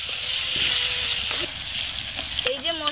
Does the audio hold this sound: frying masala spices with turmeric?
yes